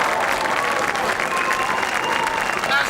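An audience at an amateur theatre performance in 1999 gives steady, dense applause that holds at an even level throughout, with some voices faintly mixed in.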